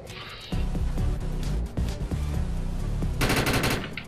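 Light machine gun fire in the video game Defiance: sustained rapid bursts start after a brief lead-in, loud and close, with a brighter crackling stretch near the end and no talking.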